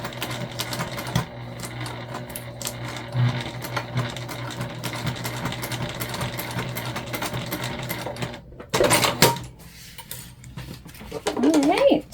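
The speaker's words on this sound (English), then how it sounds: "we're going to top stitch" A sewing machine top stitches a waist pack in steady mechanical runs that stop and start, with a brief handling clatter near the end.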